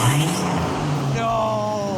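Turbocharged Jeep Wrangler engine revs through a custom megaphone exhaust with a rising, droning growl that climbs in pitch partway through. A brief spoken word comes over it at the start.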